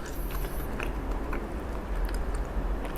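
Close, faint chewing of a Korean convenience store steak, soft moist bites and mouth sounds repeating over a low background hum.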